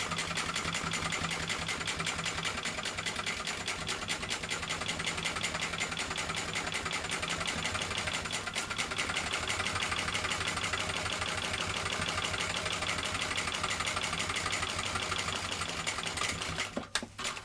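A sewing machine stitches a bag seam in one long steady run, its needle clattering in a fast even rhythm close by, then slows and stops at the very end.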